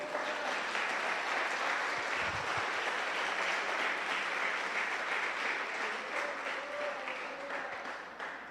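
A church congregation applauds steadily and loudly throughout, a dense sustained clapping that fades slightly toward the end.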